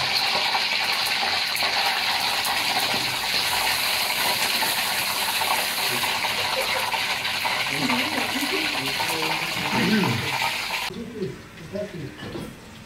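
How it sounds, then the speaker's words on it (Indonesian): Raw chicken being washed under a running kitchen tap while cooking maqluba: a steady, loud rush of water for about eleven seconds, with faint handling noises, and then the flow cuts off. "Cuci ayam dengan air mengalir."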